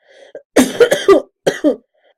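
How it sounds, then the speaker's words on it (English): A person coughs several times in quick, sharp bursts close to the listener, with a small throat sound before them and silence after. "Excuse me, I have a cough."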